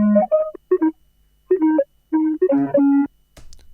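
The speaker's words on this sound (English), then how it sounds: "So the next element is this percussive kind of tonal sound that I have." A percussive, tonal sampled hit from Beat Center, chopped and time-stretched, playing as a string of short pitched bursts with gaps between them, ending in a brief noisy click, clear and alone with no voices.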